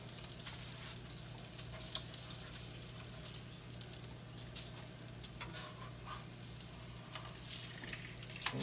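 Old-school crab cakes frying in a pan, a steady quiet sizzle and crackle with small pops throughout, close but faint, with no talking.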